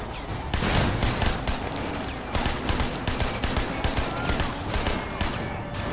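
Dense, loud gunfire from a shootout in the video game Sleeping Dogs, rapid bursts of shots packed together almost without pause for the whole stretch.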